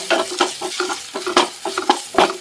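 Ginger garlic paste is stirred into prawn masala frying in a pan, giving a rhythmic series of scraping stirs over a soft sizzle, close and fairly loud, without speech.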